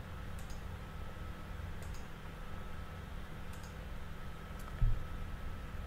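A computer mouse clicks a forward button in scripture-search software, four faint, sharp clicks spaced about a second or more apart over a quiet room hum, with a soft bump near the end.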